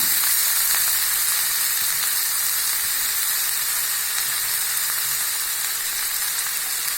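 Carrots frying in a hot pan as part of a noodle dish, giving a loud, steady sizzle that holds evenly throughout with no talking.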